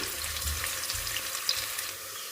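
Onion fries in a pan with a dense, even sizzle, close and steady, with a faint tap or two and no talking.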